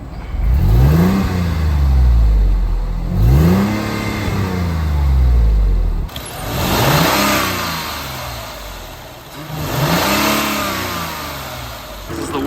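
A supercharged Mercedes C32 AMG engine fires up and revs in repeated loud, rising bursts, settling between blips, with brief talk mixed in.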